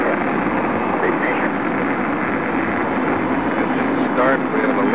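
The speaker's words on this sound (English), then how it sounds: "We have a liftoff." A rocket lifts off with a broad, continuous roaring rumble that stays loud and steady throughout, with a voice speaking over it.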